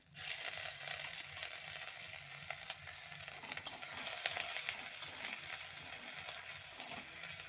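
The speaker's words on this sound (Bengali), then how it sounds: "তেলের ওপর ডালটা ছুঁকে দেবো। একটু আদাও দিয়ে দেবো এতে।" Chana dal and ginger frying in oil in a pan, giving a constant close, quiet sizzle with light stirring and one sharp tap midway.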